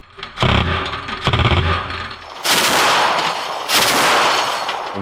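Bursts of rapid automatic machine gun fire from border guards repelling attacks near the front line, loud and rattling, with a brief pause between volleys and some distant rumbling in between.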